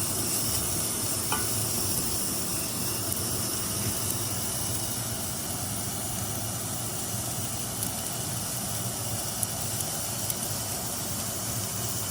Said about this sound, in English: cooking it until the fat is rendered